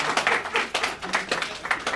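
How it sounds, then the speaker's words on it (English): Audience applause at a community center gathering, a dense, steady wash of many hands clapping for a couple of seconds, fairly loud and close. "Y'all can applaud."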